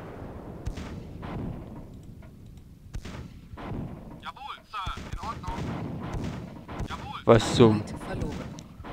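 Artillery firing in the strategy video game Command and Conquer: Tiberian Dawn, a series of repeated booming shots and impacts scattered across the scene, with someone talking over the battle in German.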